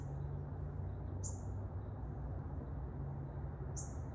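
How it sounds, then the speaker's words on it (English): Outdoors, two short high bird chirps ring out a few seconds apart over a steady low background hum. "I love being outside and hearing the birds"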